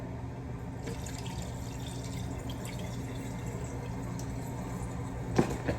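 Steady running and splashing of water being poured out of a container of thawed chicken wings into a sink, continuous and moderately faint, ending with a couple of brief clunks.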